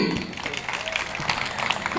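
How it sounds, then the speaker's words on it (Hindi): Audience clapping at a Hindi comedy poetry gathering (hasya kavi sammelan), a steady crackle of many hands running throughout, mixed with voices talking in the crowd. "अगर बात अच्छी लगी है तो बजाओ ताली।"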